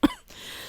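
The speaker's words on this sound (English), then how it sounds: "I'm not yawning, I'm coughing." A single short cough bursts out close to the mic, then trails into quiet room noise.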